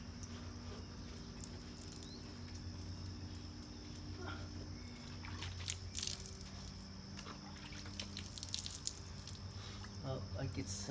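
Water dripping and pattering while a Chieftain is washed down: scattered light drops and small splashes at close range, faint against a steady background hum.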